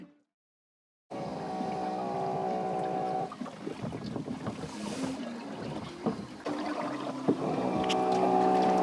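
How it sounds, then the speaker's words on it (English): On an ocean rowing boat, the autopilot sounds its alarm as a steady droning electronic tone after a brief silence. It cuts out, then returns over rushing wind and water noise. "the noise the autopilot makes when people aren't rowing hard enough"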